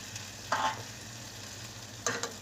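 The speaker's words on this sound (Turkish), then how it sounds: "Ve güzelce yine karıştıralım." Yogurt soup (yayla çorbası) with mint being stirred with a spoon in a pot, two short bursts of scraping and swishing separated by quiet background hiss.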